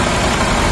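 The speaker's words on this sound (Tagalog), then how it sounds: "Maririnig nyo naman yung makina magbabago." A Toyota Corolla Altis ninth-generation engine idles steadily while its idle speed is adjusted, giving a continuous, fairly loud broadband hum with low rumble and no voices over the short stretch.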